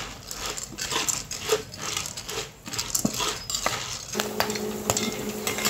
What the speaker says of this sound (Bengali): তেলের সাথে কিছুক্ষণ নেড়েচেড়ে ভেজে নেব